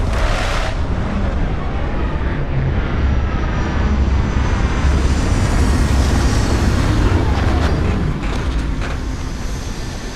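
A spaceship setting down at a landing site in the game Starfield, a loud, steady roar of engines that swells and sweeps like jet thrust, holding strong for about ten seconds before easing slightly at the end.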